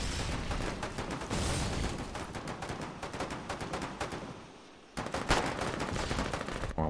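Foxhole video game gunfire with rapid, continuous bursts of automatic weapon shots, loud and dense, dipping briefly before a sharp resumption of heavy firing.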